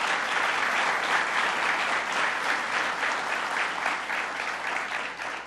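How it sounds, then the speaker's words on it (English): A crowd applauds President Conway Turner at a state university event honoring first responders: steady, full clapping from many hands, sustained evenly throughout and tapering slightly at the end. "Let's give President Conway Turner a round of applause."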